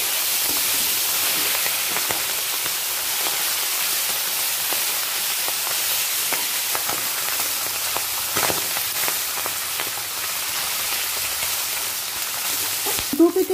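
A hilsa fish head fries in oil in a pan, with a steady close hiss and sizzle carrying scattered pops and crackles throughout, and a few small clatters near the end.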